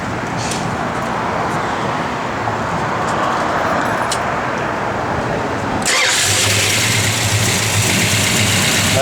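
A 1972 Plymouth Duster with an EFI engine cranks and catches, then settles into a steady, close idle with a continuous low rumble.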